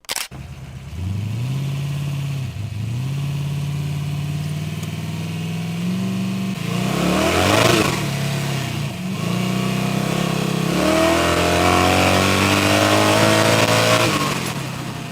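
A Chevrolet 350 small-block V8 idles, then revs repeatedly, its pitch climbing and falling in several loud bursts before settling into a rising, sustained rev; close and continuous, with no voices.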